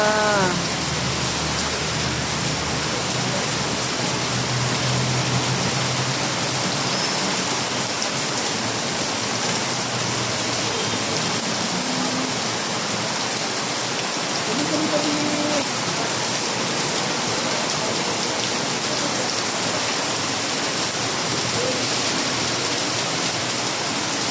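Heavy rain pours in a dense, unbroken roar for the whole stretch, loud and close, with a faint voice or two buried beneath it.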